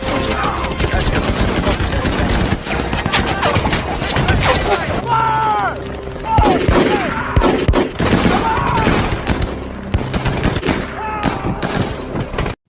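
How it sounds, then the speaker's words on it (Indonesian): Soldiers in a war film about an American squad against Nazi troops fire relentlessly, with loud, dense bursts of gunfire and scattered shots under a voice that talks over the battle. "seluruh pasukan Don pun turun dan menembaki pasukan musuh secara membabi buta"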